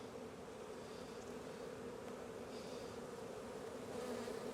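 Honey bees buzzing at an opened backyard hive during a spring hive inspection, a dense, steady hum that stays close and even throughout with no talk over it.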